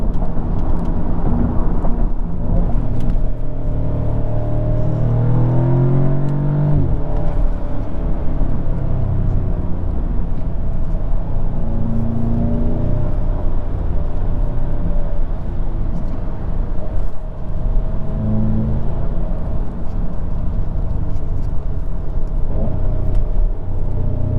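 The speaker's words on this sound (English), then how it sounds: "there's paddle shifters behind the steering wheel. You can downshift." Audi S3 with S-tronic dual-clutch transmission downshifting via paddle shifters, engine revs briefly rising in quick steps over constant road and cabin noise, heard from inside the car.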